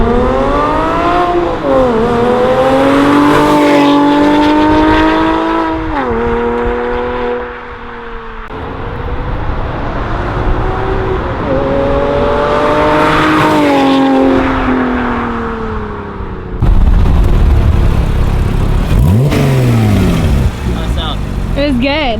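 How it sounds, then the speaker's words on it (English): A loud car, likely a straight-piped SRT8 or a Porsche, revving hard and passing under load, its engine note rising and falling in a long sweep, with a second surge near the end. "I want you guys to hear a flyby of this car."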